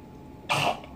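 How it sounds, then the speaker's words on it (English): A single short sneeze bursts out at close range, about half a second long, then fades back into a quiet room. "Excuse me, I had to sneeze."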